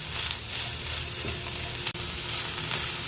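Steamed broccoli florets tossed with salt in a hot pan with ghee and garlic, giving a continuous close sizzle with soft stirring scrapes throughout and one brief dropout, no voices.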